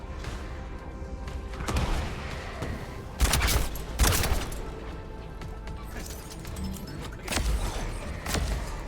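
Scattered bursts of gunfire and impact crashes hit a turret in a video game. A few loud, sharp volleys land close together, set against a low background of game noise.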